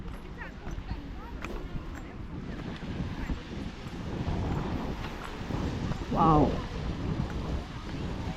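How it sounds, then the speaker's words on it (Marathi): Sea waves wash onto the beach at Redi in Sindhudurg, a steady surge under gusty wind noise, with a brief dog bark or call partway through and a person speaking nearby. "पाण्याचा आवाज"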